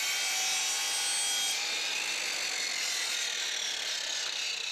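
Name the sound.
handsaw sawing wooden skirting board at a mitre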